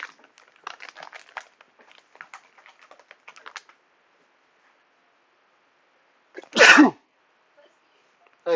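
A single loud, close sneeze after several seconds of soft keyboard tapping and quiet, followed by a brief sharp sound at the end.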